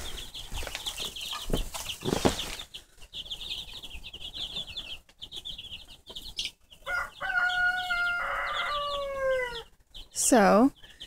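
Hens and chicks in a backyard greenhouse cluck and chirp in soft bursts, with higher peeping calls and a brief louder squawk near the end, mixed with quiet rustling and occasional background voices.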